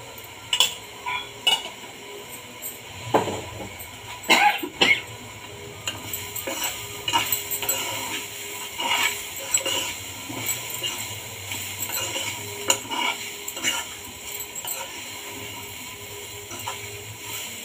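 A spoon stirs and scrapes lentil powder being dry-fried in a pan, with irregular metallic clinks and scrapes over a faint steady sizzle, close by and with no talking.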